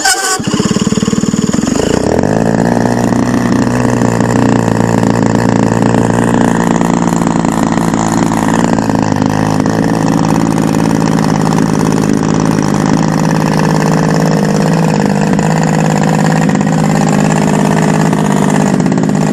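Engine of a quarter scale clipped wing Taylorcraft RC plane starting up and then idling loudly and close, a steady buzzing drone that holds for the rest of the run.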